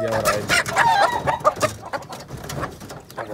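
A hen and a fine Pava rooster being paired in a Dominican pen make steady clucking and squawking calls with fluttering, close and fairly loud throughout.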